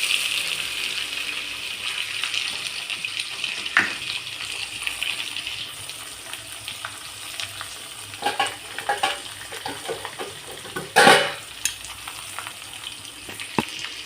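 Onion, green chili and curry leaves being stirred in hot oil in a pan for egg kurma, a steady close sizzle with occasional scraping stir clicks and a sharper clatter partway through.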